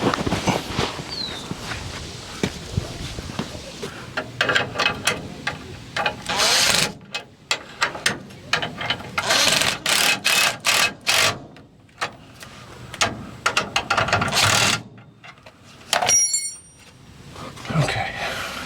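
A socket ratchet works on the driveshaft of a 1964 Ford F100 pickup, giving bursts of rapid, loud mechanical clicking close by with short pauses between strokes.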